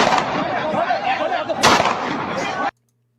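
Gunfire erupts at an embassy during an attack by militants, a loud dense barrage of overlapping shots and bursts with one sharper crack near the middle, cutting off abruptly into silence.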